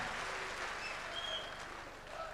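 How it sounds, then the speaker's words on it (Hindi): Audience applause at a motivational speech event, a dense, steady clapping wash lasting a couple of seconds at moderate, even loudness. "अब जोरदार ताली बजाओ अपनी इस हां के लिए।"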